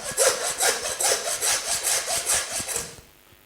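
A hand saw cuts chumps off a lamb carcass in quick, steady back-and-forth strokes, about a dozen rasping passes close up, before the sawing stops abruptly.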